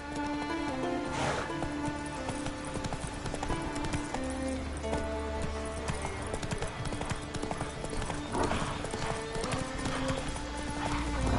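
Roach the horse galloping in The Witcher 3, heard as a steady, close clip-clop of hooves with a brief whinny, running continuously under a game music score.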